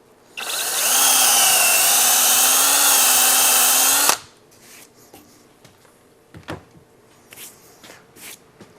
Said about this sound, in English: now I want to drill a 1/4 inch hole on that mark